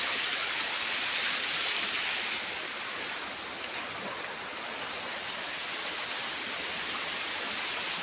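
A rain-swollen stream rushes along after heavy rain, a steady broad roar of flowing floodwater heard close and continuous with no break or voices.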